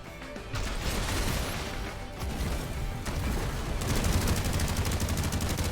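Machine gun fire in the mech tactics game Phantom Brigade: dense rapid bursts of shots and crashing impacts rattle on continuously, loud and close, quickening into a fast regular stutter toward the end.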